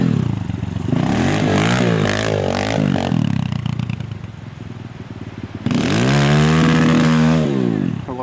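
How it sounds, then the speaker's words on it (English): Kubota K008 mini excavator engine revving hard against its rev limiter, a loud buzzing, bouncing drone that cuts out for a moment and then surges back, close and alone. "A little rev limiter"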